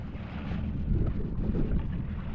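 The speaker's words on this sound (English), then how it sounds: "we have found a little bit of wind" Wind rushing past a small sailboat under full sails in light breeze, a steady broadband roar with low buffeting rumble, close and continuous with no voices.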